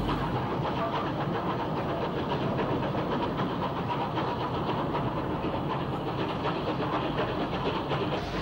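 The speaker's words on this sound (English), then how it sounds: "A boat train for Southampton docks gets underway, headed by West Country Pacific 34021 Dartmoor." A steam-hauled boat train bound for Southampton docks, led by West Country Pacific locomotive 34021 Dartmoor, pulling away from Waterloo with a dense, steady roar of engine and rolling stock, loud and continuous throughout.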